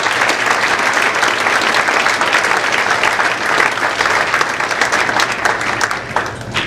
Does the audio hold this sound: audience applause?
yes